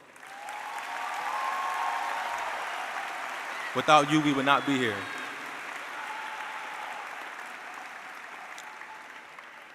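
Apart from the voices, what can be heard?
audience applause at graduation ceremony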